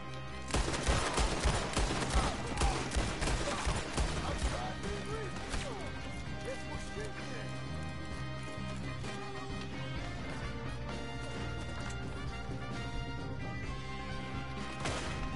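Gunfire in Red Dead Redemption 2: a loud, rapid burst of shots and impacts opens the scene, then gives way to a dense, sustained din with speech woven through.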